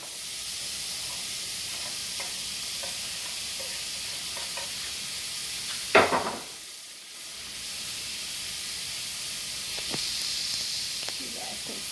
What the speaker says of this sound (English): I like to turn my stove on and let my chili get hot before I put my oil in there